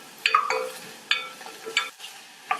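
Cut tomato going into a pan of onions, dried chillies and crushed garlic for soup, a few sharp sizzling bursts and stirring scrapes spaced apart, fairly quiet with no talking.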